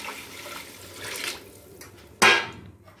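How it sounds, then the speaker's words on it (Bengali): Water is poured into a cooking pot of rice and lentils that have been fried with spices, a short splashing gush at close range following quieter kitchen noise. "এবার পরিমাণ মতো জল দিয়ে দেবো।"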